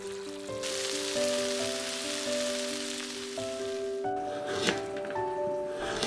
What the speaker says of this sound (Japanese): フライパンにごま油を熱し、食材をすべて入れて炒めて